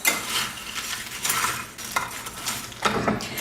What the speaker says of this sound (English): So just really stir them up well.